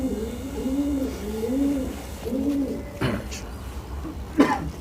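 Pigeons of the red Chinni breed coo repeatedly in a loft in Sonipat, Haryana, their low rolling calls close and steady, with a few sharper sounds and faint talk in the background toward the end.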